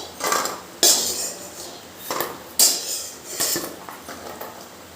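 A metal spoon clinks and scrapes in a bowl while lifting fried lentil dumplings (bori), a few sharp clinks spaced irregularly with softer scraping between, close up.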